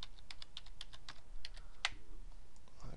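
Computer keyboard typing of an Excel DATEDIF formula, a quick run of close, crisp key clicks with one sharper, louder keystroke near the middle, over faint room hum.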